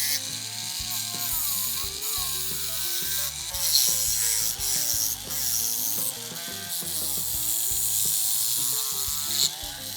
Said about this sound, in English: I'll put the sanding drum here in my rotary tool, and I'll use that to chew away at the material until it's the right shape.